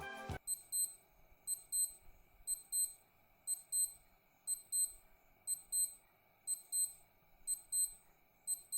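A digital wristwatch alarm beeps in quick, high, thin chirping bursts that repeat evenly about once per second, close and clear, with no other sound.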